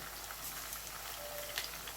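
Ginger-garlic salt and pepper pork ribs fry in hot oil with a soft, steady bubbling sizzle. It stays fairly quiet and close, with a few faint pops and no voices.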